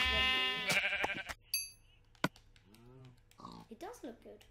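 Sheep bleat in a blocky survival video game, several short wavering calls near and far, mixed with game sound effects and a player talking over them.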